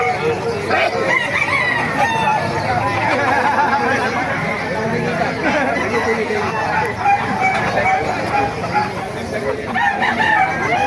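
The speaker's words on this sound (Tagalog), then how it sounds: "Pakaraming manok kayo dito." Many chickens cluck and chatter together nearby at a chicken market in Bocaue, Bulacan, with roosters crowing now and then over the steady flock noise and some voices.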